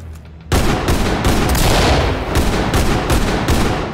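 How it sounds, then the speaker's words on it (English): Flashbang grenade detonating in the tactical shooter Ready or Not: an abrupt loud blast after a quiet half second, followed by a sustained harsh, ringing wash of noise with repeated sharp bursts layered on top. "Flashbang going out."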